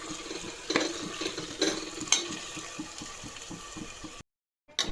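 Chicken being stirred in a cooking pan, with a steady, close scraping and clinking of a utensil against the pan over a soft sizzle, several sharper knocks standing out, then a brief silence near the end.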